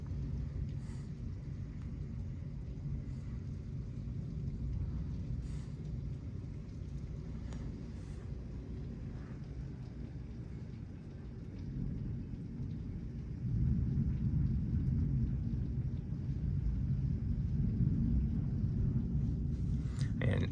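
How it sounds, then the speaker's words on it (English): Thunderstorm over Houston, Texas, with wind-blown rain pouring continuously as a dense, loud roar and low rumbling, intensifying in the latter half; no clear talk over it. "you can see the way the rain is coming down"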